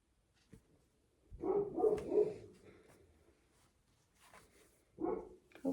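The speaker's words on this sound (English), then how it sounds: "Sorry for the barking." A dog barks in two short bursts, a cluster of barks early on and another pair near the end, with quiet gaps between.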